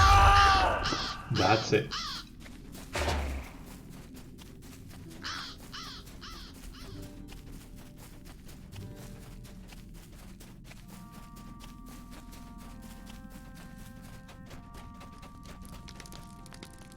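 Harsh crow-like caws of birds being slain in the online role-playing game LOTRO come in loud bursts over the first few seconds. Softer game thumps and chime-like interface tones follow, and a voice speaks briefly.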